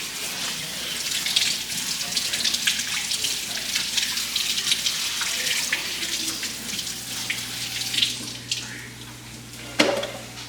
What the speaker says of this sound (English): Gonna rinse them off.